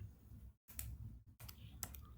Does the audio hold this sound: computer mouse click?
yes